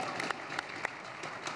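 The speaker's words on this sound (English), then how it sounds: "give yourselves a round of applause for that" An audience clapping in a soft, scattered patter, fairly faint and even, with a few sharper claps standing out and no distinct voices.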